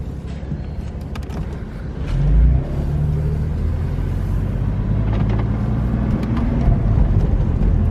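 BMW M4 F83 with a non-stock exhaust driving on a road, its engine giving a steady low rumble that swells in a brief louder surge partway through, then holds a constant drone without talk.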